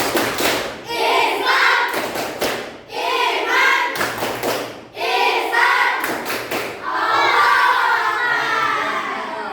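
A classroom group claps out a rhythmic patterned chant, loud clustered hand claps in repeating phrases, with children's voices chanting and shouting along between the beats.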